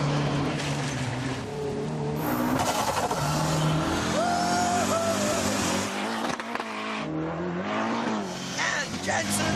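A rallycross car runs down a steep hill into a tight turn at Lydden Hill, its engine loud and close and rising and falling with occasional tyre squeal, while voices talk over it.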